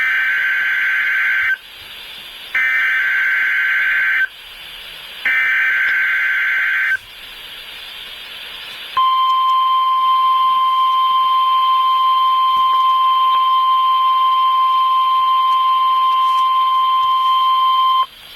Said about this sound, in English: We have just activated the public warning alarm tone.